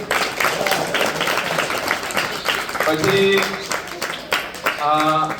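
Clapping from a group of students at a primary school quiz competition rattles throughout, with a person talking over it in the second half.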